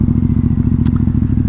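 A Ducati XDiavel motorcycle riding through town, its engine thumping in a steady rapid pulse, loud and close, with faint rattles and no talking.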